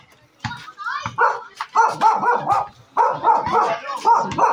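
A dog barks repeatedly near a cottage, loud close woofs and yips in uneven bursts, with whimpering pitch rises between barks.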